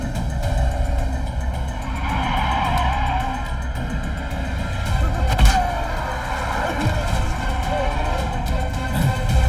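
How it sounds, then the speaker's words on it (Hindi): A car skids to a stop in a Hindi film scene, a loud, sustained rush of engine and tire noise with a rough low rumble, lasting the whole stretch and swelling slightly midway. "गाड़ी रोको रोको, गाड़ी स्टॉप।"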